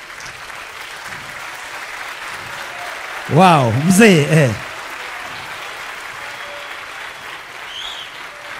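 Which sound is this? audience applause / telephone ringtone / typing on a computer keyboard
audience applause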